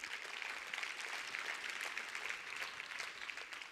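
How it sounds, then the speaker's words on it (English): A conference audience at a women's forum claps in a steady, faint ripple of applause that holds evenly for a few seconds, with no talking over it. "A warm round of applause for her."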